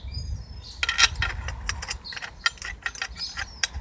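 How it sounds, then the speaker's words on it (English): A ratchet clicks in quick, uneven bursts while tightening a bolt on a Hyundai XG 350 rear strut, close and crisp, with short pauses between strokes and no talking. "Just hold it and tighten it up."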